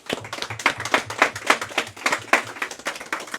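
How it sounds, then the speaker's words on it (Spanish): Church congregation clapping in a steady, rhythmic beat, loud and close, with unison claps repeating evenly throughout. "Vamos a dar un aplauso al Señor Jesús."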